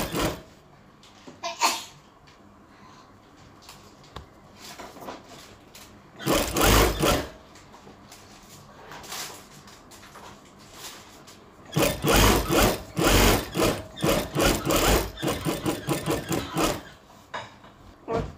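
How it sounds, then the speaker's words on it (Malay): A sewing machine stitches a patch onto a Kedah-style baju kurung, running in several bursts: a short run early on, then a longer, louder stretch of rapid stitching, with quieter handling of fabric between. "So kita jahit lah ni bahagian tampal lah."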